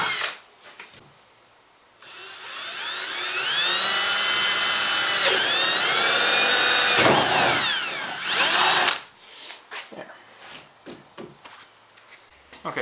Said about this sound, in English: get your cordless drill and pick a drill bit size that closely matches the rope that you're going to be using. And then drill through the holes that you've previously marked.